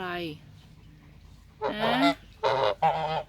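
Geese honk loudly close by, a long descending honk followed by three harsh, nasal blasts after a brief quiet stretch.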